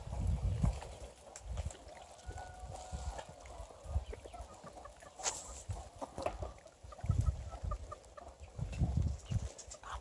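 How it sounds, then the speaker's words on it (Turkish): Roosters and hens in a free-range flock being fed wheat, soft scattered clucks and calls mixed with rustling and low background noise, fairly faint. "Kırmızı horoz, beyaz horozu devamlı kovalar."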